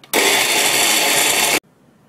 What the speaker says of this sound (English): blend until frothy